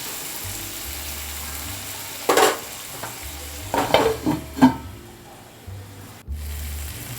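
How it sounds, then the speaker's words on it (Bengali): Spice paste with tomato sautéing in a pan for a bhetki fish and cauliflower curry, with a few scraping stirs and soft clatter over a low, steady sizzle; no one speaks. "টমেটোটা ভালোভাবে নরম হওয়া পর্যন্ত মশলাটাকে আর একটু কষিয়ে নেব"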